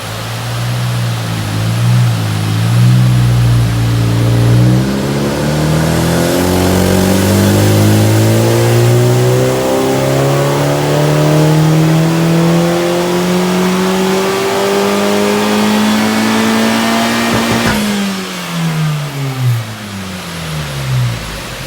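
Honda Civic Type R with a United Speed Racing downpipe pulling a baseline run, a loud, close engine note climbing steadily in pitch through the revs, then a shift and renewed rise, with no talking.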